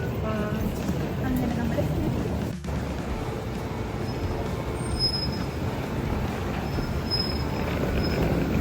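A metro train rumbling through a Copenhagen station, a continuous low rolling roar with faint high squeals, steady and fairly close throughout, with some talk under it.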